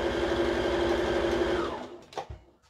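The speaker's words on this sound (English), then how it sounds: "Let me just turn my treadle over, my presser foot, not my presser foot, my treadle foot. Okay, and I'm just going to sew that down." A treadle sewing machine stitches fabric down in a fast, even mechanical whir for nearly two seconds, then stops, leaving a few soft clicks and knocks.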